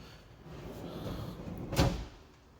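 A soft-close kitchen cabinet door or drawer in a newly finished house shuts with a gentle muffled thud near the end, preceded by a low rustle of movement and room tone, with no talking.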